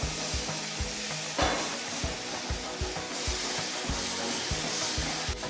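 A spoon scrapes steadily around a pan of bubbling caramel mixed with cream for salted caramel brigadeiro, making a rhythmic, close scraping pulse about twice a second over a continuous soft sizzle.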